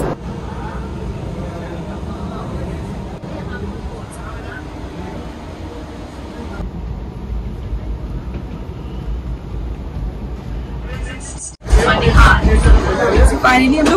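An Indian Railways Vistadome glass-roof coach runs through Kashmir, giving a steady loud rumble of the moving train that surges louder near the end. Passengers chatter throughout.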